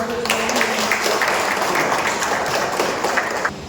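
A crowd at a meeting of electricity board workers applauds, a dense continuous wash of many hands clapping at close range that holds steady throughout.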